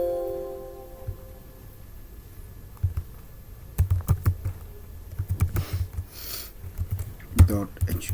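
Typing a file name on a computer keyboard: sparse clicks at first, then a quicker run of close key taps in short clusters, clear and near, with a voice talking nearby at times.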